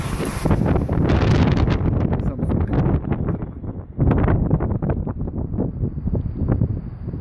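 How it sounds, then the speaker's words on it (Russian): A strong gust of wind on a balcony during a thunderstorm buffets the microphone with loud, continuous rumbling and roaring that swells and eases throughout. "сильный сильный порыв ветра"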